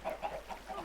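Minecraft chickens cluck in a chicken hut, several soft, rhythmic clucks repeating in quick succession, faint and close.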